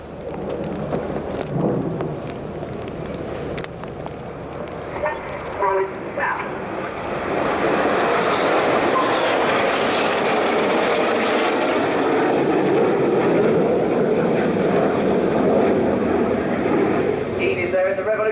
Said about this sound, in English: flying synchronised aileron roll manoeuvres